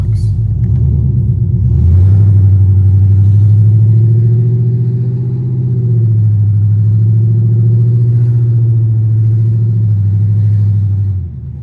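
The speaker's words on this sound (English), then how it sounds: "I hate driving open headers, but sometimes we got to do it." Dodge 6.4 Hemi Scat Pack V8 with a stage 1 cam running on open headers while driving, a loud, deep, continuous lumpy rumble that swells slightly and holds steady, heard from inside the car.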